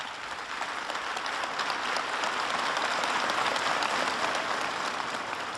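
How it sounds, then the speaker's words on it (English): Marines at Camp Lejeune applaud after a presidential speech, a dense, sustained wall of clapping from a large crowd that stays loud and even throughout without a break. "That at first tentative and then enthusiastic applause from the serious as it gets Marines of Camp Lejeune"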